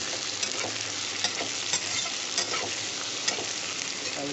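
Potatoes frying in a pan for methi saag, stirred with steady sizzling and repeated scraping strokes of the spoon, close and continuous with no talk.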